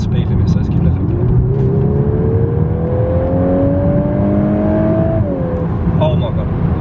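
A 2021 Volkswagen Golf R, a four-wheel-drive hot hatch, accelerating steadily on a 60 km/h road, heard from inside with a rising engine tone over road roar for several seconds before easing off; a voice talks over it.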